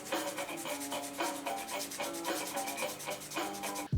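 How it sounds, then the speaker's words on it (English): Sandpaper rubbed back and forth over a 3D-printed part for a homemade gramophone-horn attachment for an Amazon Echo Dot, making close, steady, rhythmic scratchy strokes that repeat at a brisk, even pace with no talking. "get that sandpaper out"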